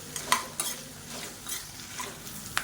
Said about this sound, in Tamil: லேசாக வறுபட ஆரம்பிக்கும் போதே எல்லாத்தையும் ஒன்றா சேர்த்துட்டோம்னா நல்லா வறுபட்டுரும், கருகாது